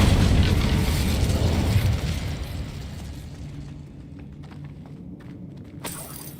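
A fire spell cast in Hogwarts Legacy bursts with a loud whooshing, explosive roar that fades into a lingering crackling rumble, followed by a brief sharp pop near the end.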